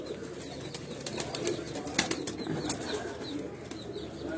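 Pigeons on a rooftop loft coo softly amid steady ambient noise, with a few brief bursts of wing flapping and faint bird calls scattered through the scene.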